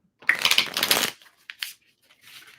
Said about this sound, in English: We're gonna do three shuffles, and pull 3 cards.